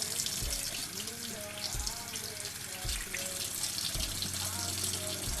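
Tap water running steadily into a sink while a well-used two-year-old beauty blender sponge is rinsed under it, with soft squelching thumps as it is squeezed.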